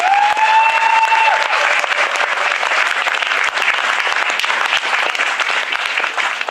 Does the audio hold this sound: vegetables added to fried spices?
no